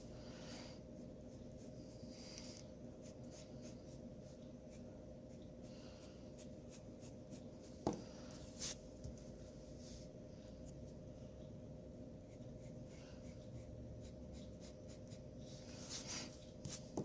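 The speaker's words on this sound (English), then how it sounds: "I'm going to draw over my letter so that way I know that my design touches it" Pencil drawing designs on paper, heard as quiet, faint scratching strokes with occasional light taps over a low, steady room hum, and no talking.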